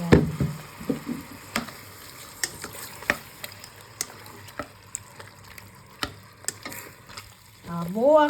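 Squid adobo with soy sauce and bay leaves fries in a pan. A quiet sizzle runs throughout, broken by sharp, regular scrapes and taps of a utensil stirring. A brief voice is heard at the start and again at the end.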